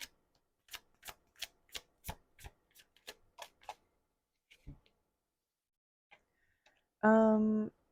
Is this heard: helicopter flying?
no